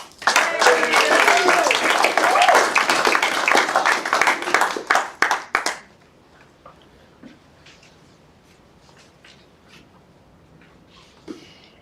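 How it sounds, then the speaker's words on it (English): Loud, dense applause from an auction crowd for a man from Tremaine fills the first six seconds, then cuts off into near silence with a few faint scattered taps and rustles. "Give him a round of applause."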